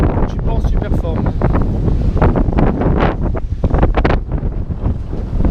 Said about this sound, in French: Il fait froid, il y a un vent froid.